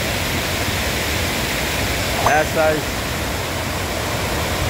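Water from the Ipanema River pours through seven dam gate openings under strong pressure, a steady broadband roar of rushing flow with churning foam, continuous throughout while a voice speaks briefly over it.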